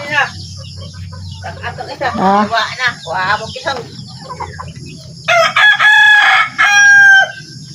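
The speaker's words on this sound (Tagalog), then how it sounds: "Kiguan ning manok ka sige tuktugaok." A rooster crows loudly nearby, its long call rising and falling, while a person speaks briefly before it.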